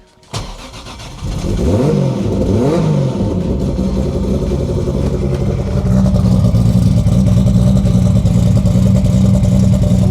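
A Toyota Supra engine, long abandoned in a barn, cranks and catches, then revs up in a few rising sweeps before settling into a loud, steady rumbling idle close by.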